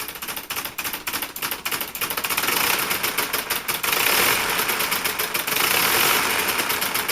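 An eight-piston V8 motor runs with a dense, rapid mechanical clatter and rattle, steady and fairly loud, growing slightly fuller partway through with no voices.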